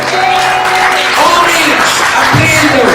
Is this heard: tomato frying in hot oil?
no